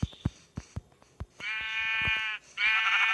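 A sheep in a survival video game bleats twice, with long, loud, wavering cries following several sharp clicks and thuds.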